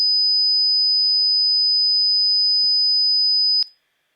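A steady, piercing 5000 Hz sine test tone from a signal generator, holding at constant level for about three and a half seconds before stopping abruptly, faint background noises beneath it.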